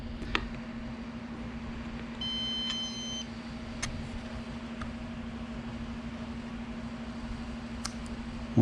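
A model rocket altimeter, powered through a screw switch with no ejection charges connected, gives short high electronic beeps, one near the start and a few more spaced out, over a steady low hum.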